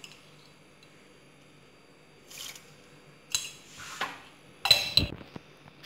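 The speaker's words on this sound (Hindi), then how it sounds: "हम इसमें 3 spoons शुगर डालेंगे" A spoon scoops sugar and adds it to a mango shake, making a few short clinks and gritty scraping sounds in otherwise quiet surroundings, loudest toward the end.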